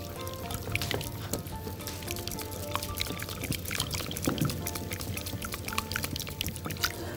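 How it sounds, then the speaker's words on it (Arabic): Balsamic vinegar poured slowly into a bowl of salad, a steady liquid trickle with small splashes, close and fairly quiet, no talking. "وبعدين نبتدي نحط الخل البلسمك شوية شوية."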